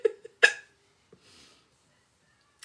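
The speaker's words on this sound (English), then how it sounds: "Sorry, I got the hiccups." A single sharp hiccup near the start, then a fainter one shortly after, close and fairly loud, with light breathing noise following in a quiet room.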